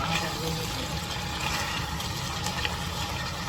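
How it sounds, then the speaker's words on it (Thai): Water pours steadily into a simmering pot of chicken and bamboo shoot curry, a continuous close splashing hiss with no talk over it. "ขอเทน้ำไปน้อยหนึ่ง"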